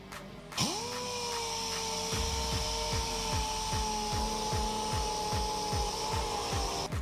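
Rapid, rhythmic back-and-forth sanding strokes rasp close by over a steady high whine, continuing without pause, as sandpaper wet-sands orange peel out of a car's clear coat.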